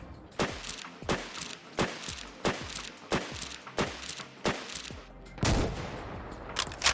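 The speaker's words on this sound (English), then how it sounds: "let's go ahead and take some shots at the chest and see how they perform, starting with 308s" Sniper rifle firing .308 rounds at a Deathclaw in the Fallout 4 video game: about eight sharp, loud shots at an even, unhurried pace, each with a short decaying tail, then a heavier rumbling blast near the end.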